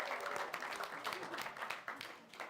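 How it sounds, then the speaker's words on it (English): Brief, fairly quiet applause from a conference panel audience, a crowd clapping steadily for a couple of seconds. "you should give a round of applause to David"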